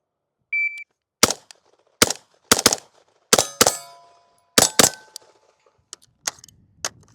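A BCM rifle fires a string of sharp, loud shots at steel targets, each followed by a ringing metallic clang, preceded by a short beep of a shot timer.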